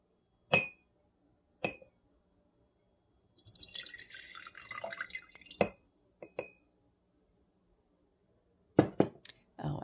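A reused glass honey jar clinks sharply a few times as it is handled, with scattered bright taps spaced across a quiet room and a brief busier stretch of clattering in the middle.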